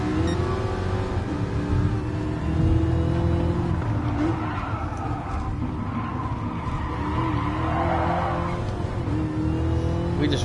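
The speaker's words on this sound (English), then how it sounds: "You can hear that whine, that just massive responsive power." An American muscle car drives hard on a race track on track day, its engine droning loud and steady throughout with a high whine layered over the roar and brief tire chirps, no voices.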